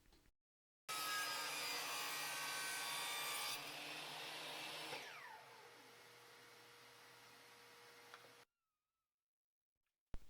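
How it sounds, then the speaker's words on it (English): A table saw cuts miters on wooden boards for a jewelry box, a steady whining rip that eases off as the blade clears the wood, then spins down before falling silent. "Here you see me cutting a miter on one side of each of the boards."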